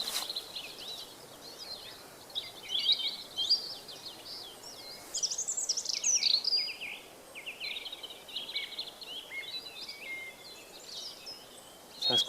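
Song thrush at dawn in an East Dartmoor valley, bright chirping phrases repeated in short bursts against a soft background chorus, moderately distant and fairly faint, with no talking.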